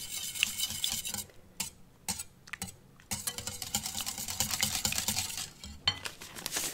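Clafoutis batter with cherries is stirred in a bowl, giving close, crisp scraping and clinking in quick irregular bursts with brief pauses, no talking.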